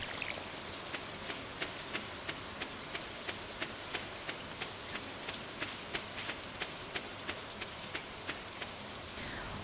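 Steady rain falls in the farming game Stardew Valley, a continuous soft patter marked by a regular series of light, evenly spaced ticks running throughout, with no talking.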